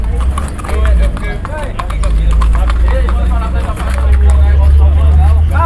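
Horses' hooves clip-clopping among the crowd at the horse fair in Campina Grande, Paraíba, a steady patter of hoofbeats under a low engine rumble and busy chatter, with people talking throughout.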